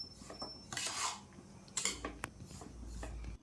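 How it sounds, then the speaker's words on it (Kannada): Roasted semolina being mixed with dry coconut powder for rava ladoo, giving quiet, intermittent clinks and scraping rubs of a utensil against a container, with short bursts separated by brief pauses. "ಈ ಕಡೆ ಹುರಿದಿಟ್ಕೊಂಡಿರೋ ರವೆಗೆ ಈ ಕೊಬ್ಬರಿನ ಮಿಕ್ಸ್ ಮಾಡ್ಕೊಳ್ಳೋಣ"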